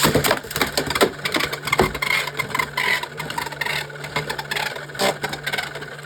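Beyblade X tops, Drawn Sword against Bronzer, clatter and grind in a plastic stadium after launch, a loud close rattle with sharp knocks and a steady whirring hum.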